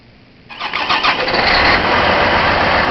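A John Deere 9630 tractor, a massive eight-tired machine, cranks briefly and then catches, its engine swelling quickly into a loud, rough, steady roar close by.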